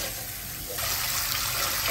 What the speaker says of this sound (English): wash the rice a couple of times.